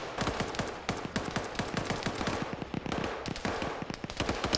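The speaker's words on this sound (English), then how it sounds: "the other audio is going to drown out the audio of his gunshots" Rapid bursts of automatic gunfire in a first-person shooter video game, loud, dense and continuous, with closely spaced shots across the whole stretch and no talking.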